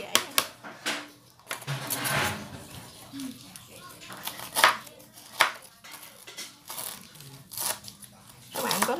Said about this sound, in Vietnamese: sả thì mình đã xắt và mình đã băm nhuyễn rồi